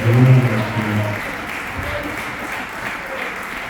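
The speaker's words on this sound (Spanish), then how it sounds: "Dale un aplauso a Jesús." A church congregation claps in scattered applause during a Sunday service while someone speaks over it at the start, then the clapping fades to a quieter patter.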